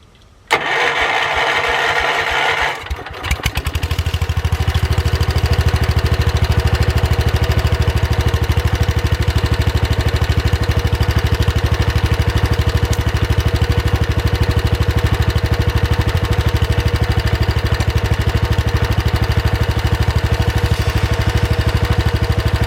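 A Kohler engine on a vintage garden tractor cranks for a few seconds, then catches and settles into a loud, steady idle that runs alone for the rest of the clip.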